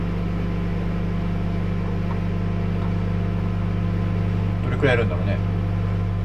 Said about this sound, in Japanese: 電子レンジの音ね。